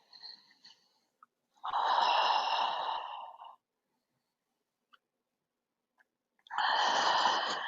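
Deep, slow breaths during a yoga flow: one long exhale lasting a couple of seconds, a quiet pause with faint small sounds, then another full breath, close and clear.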